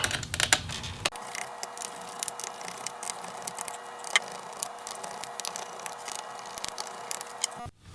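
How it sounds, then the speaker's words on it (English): Small screws being removed from the fan and heatsink of an MSI GF63 Thin laptop, with soft, close ticking and clicking from a screwdriver, quiet and irregular over a faint background hum. "we're just going to go ahead and remove all of the fan and heatsink screws"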